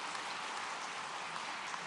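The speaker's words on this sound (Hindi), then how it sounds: "सबके लिए जोरदार ताली बजाओ।" An audience claps at a government event in an auditorium in Bhopal, a short burst of dense, steady applause from a large crowd, heard alone without speech.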